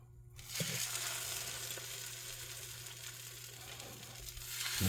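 Saffron croissant French toast, soaked in egg, frying on a hot griddle, giving a steady, dense sizzle that starts after a brief quiet moment and holds at an even level throughout, with a low hum underneath.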